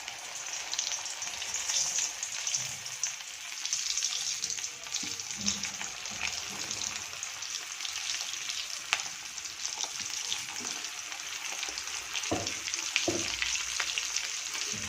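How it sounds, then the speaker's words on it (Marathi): Potato spring rolls deep-frying in hot oil give a steady, bright sizzling crackle throughout, with occasional soft pops and light stirring, fairly quiet and close with no talking. "आता आपण हे डीप फ्राय करणार आहोत"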